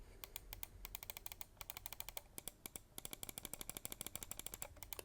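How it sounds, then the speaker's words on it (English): Rapid sharp clicks from the right and left buttons of a Zowie FK2-C gaming mouse, close and crisp, coming in quick irregular bursts with brief gaps and no talking. "Right and left click."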